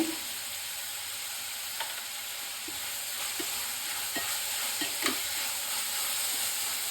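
Tomatoes and onions fry in a pan with salt added for a chicken dish, giving a steady soft sizzle with a few light stirring taps spaced through it; no one speaks.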